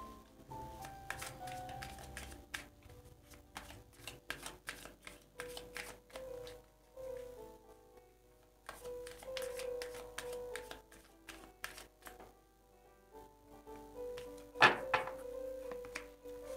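Oracle cards are shuffled and handled in a series of quick riffling bursts and soft taps, with quiet pauses between, close and fairly faint, with a background tune underneath.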